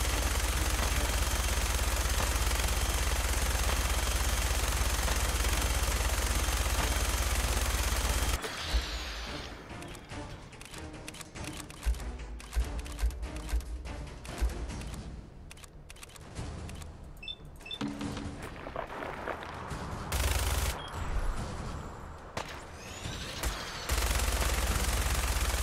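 Minigun fire in Fallout 4, heard as a long loud stretch of dense, continuous automatic gunfire with a few brief breaks before it resumes.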